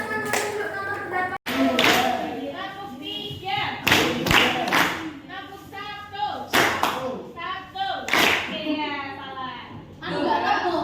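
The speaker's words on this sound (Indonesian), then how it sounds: "Kita beri tepuk tangan" A small group claps for Zahra in a classroom-style peer coaching session, several short bursts of hand claps mixed with children and adults talking and some light laughter.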